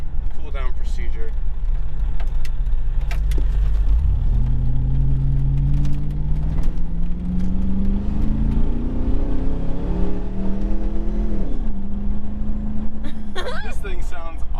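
Hummer H2 with an aFe aftermarket exhaust pulling away from a stop, a deep rumbling engine note climbing steadily through the revs and dropping at a gear change, loud and close, with a person talking at the start and end.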